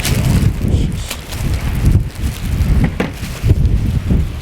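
Wind blowing outdoors, buffeting the microphone with loud, gusty low rumbles that rise and fall continuously, with a few faint rustles and no talking.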